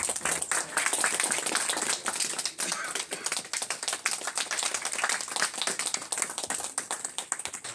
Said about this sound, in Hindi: तालियां बजती रहें दोस्तों